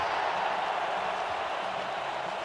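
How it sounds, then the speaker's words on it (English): In a simulated football game, a stadium crowd roars in a steady, broad wash of cheering after a big running play. The noise is even and continuous, with no distinct claps or voices standing out. "You can hear the crowd excited about that run."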